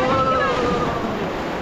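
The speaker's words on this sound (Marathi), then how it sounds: "welcome to river rafting of व्यास नदी" River rapids rush past a raft on the Beas river near Kullu-Manali, making a continuous loud roar of churning water and wind buffeting the microphone. Faint voices may sit underneath.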